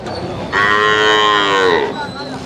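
Holstein Friesian calves and cattle moo loudly at a buffalo market in Hyderabad, one long drawn-out low call standing out close by against quieter background noise.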